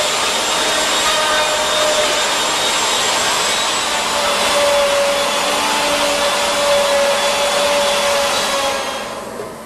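A wood lathe spins a bowl blank mounted on a faceplate, giving a loud, steady whirring roar with a faint tonal whine that runs throughout before easing off at the end.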